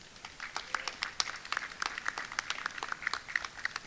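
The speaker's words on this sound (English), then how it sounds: "Can we also have applause for Nancy Ruiz Partida?" Crowd applause greets a graduate at a Vail High School 2021 commencement, many hands clapping in a fairly distant, sustained burst that swells and holds.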